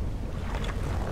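A boat engine runs in the fishing video game DREDGE, a steady broadband rumble and wash with no distinct beats, heard alone and continuous throughout.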